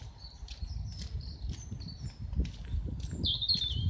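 A blackbird sings on a walk past a housing area, clear fluting phrases repeating over several seconds above low rustling and footstep noise.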